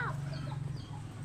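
A chicken clucks softly in short bursts, faint and somewhat distant, with a low steady hum underneath and no talking.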